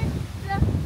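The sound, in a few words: strong wind blowing into the microphone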